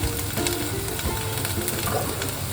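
Butter and oil sizzle steadily in a pan as the base for a white sauce pasta, a loud continuous frying hiss with faint stirring scrapes throughout.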